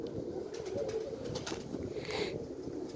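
Pigeons cooing nearby in soft, repeated throaty calls over a steady low rush of gusty wind.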